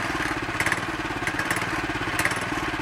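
A trail bike engine running rough just after a carburetor cleaning, with a steady uneven idle-like chug carrying periodic pulses and irregular bursts, close and continuous throughout.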